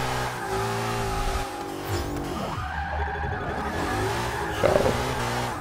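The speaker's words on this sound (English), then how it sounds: "This car is now shredding rubber." Drift car in Forza Motorsport 6 sliding with sustained tire squeal and a revving engine that rises and falls, loud and continuous with no talking.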